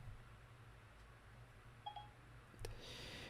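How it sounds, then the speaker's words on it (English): A mobile phone gives a couple of short, quiet electronic beep tones over a faint steady hum in a quiet room. "That's my phone."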